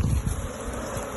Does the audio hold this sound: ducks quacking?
no